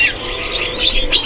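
White canaries in a kiosk at Pramuka bird market chirp and squeal in high, bright bursts over a steady crowd murmur, close and fairly loud.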